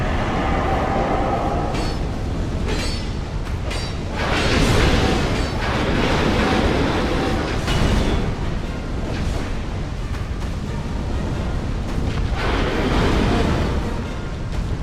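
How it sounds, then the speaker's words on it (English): A fiery explosion in the video game Dark Souls II roars as a dense, loud, sustained rumble with crackling bursts that swell and fade over several seconds. "Explosion fire thing."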